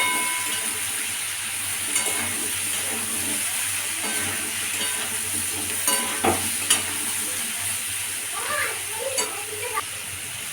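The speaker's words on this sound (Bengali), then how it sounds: "নুন হলুদটা দিয়ে একটু ভেজে নেব।" Pumpkin curry fries in a pan with salt and turmeric, a steady sizzle running under intermittent stirring scrapes and a few sharper utensil knocks close by.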